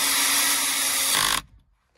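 Close, loud electric screwdriver unscrewing a fastener on a Mercedes GLE, a continuous whirring run lasting just over a second before cutting off sharply into quiet.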